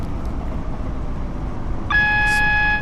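A GWR train running in Train Sim World 6 gives a steady low rumble, then a loud, sustained tonal warning tone comes in near the end.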